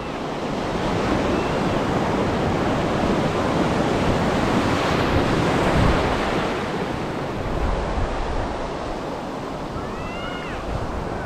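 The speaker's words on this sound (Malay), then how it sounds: "Tapi tak besar lagi ombak ni." Ocean waves wash continuously onto Chendering beach before the monsoon, a broad, steady roar of surf with wind buffeting the microphone, close and loud throughout.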